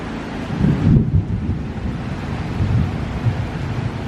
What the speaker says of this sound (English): More thunder, more rain.